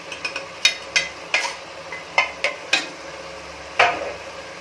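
A spoon stirs coriander powder, chilli powder and garam masala into cabbage rice bath in a pan, making a series of short scraping strokes in an uneven rhythm, close and moderately loud, with no voices.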